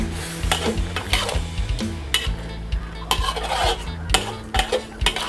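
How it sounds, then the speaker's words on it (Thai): A spoon stirs shrimp jungle curry with holy basil leaves in a pot. The scrapes and knocks against the metal are loud and near, coming in an uneven rhythm over a soft bubbling sizzle. "ต่อไป เราก็คนให้เข้ากันนะคะ"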